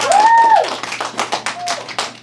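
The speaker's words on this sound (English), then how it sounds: "please give him one more round of applause" Scattered hand clapping follows a lion dance performance at an elementary school's Chinese New Year event, with uneven claps under a whooping voice and cheers, lasting a couple of seconds.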